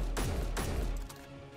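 Two heavy precision rifle shots from the video game Space Engineers, each a loud close boom with a short decaying tail, about half a second apart.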